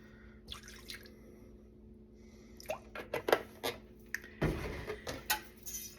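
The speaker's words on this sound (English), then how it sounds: "I'm going to whisk that with about 3 tablespoons of milk." An egg is whisked with milk in a bowl, giving faint, irregular wet taps and clinks that grow quicker and busier toward the end, with no talk.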